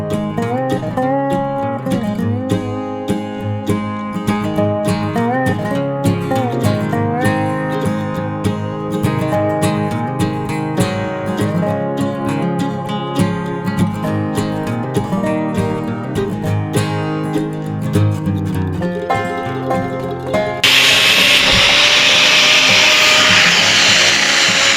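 A grinder takes a lip off metal fence parts on a homestead, entering near the end as a loud, harsh, steady grinding burst over the background music.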